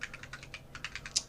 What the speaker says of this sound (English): So let's type in some data for example's sake